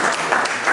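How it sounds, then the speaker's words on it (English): Seated attendees at a Digital Citizenship Summit clap for themselves in a short, even burst of applause with faint accented claps. "Please clap for yourself"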